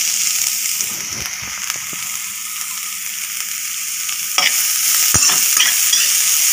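Grated carrot frying in a little ghee for carrot halwa, a steady sizzle with scraping stirs and a louder clatter near the end, close and alone.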